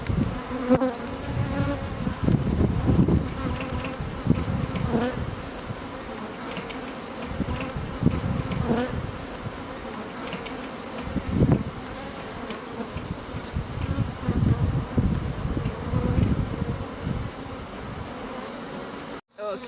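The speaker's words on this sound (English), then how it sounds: "so what we've got is the bees coming in now. They're quite busy" Dense, steady buzzing of many honeybees arriving at their hive close by, a continuous droning swarm with rising and falling intensity throughout.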